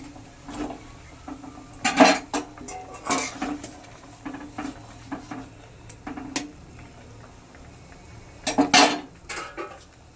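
Fish roe fritters go into a pan of simmering gravy with scattered metallic clinks and scrapes of a utensil against the pan, in short bursts over a low background hiss.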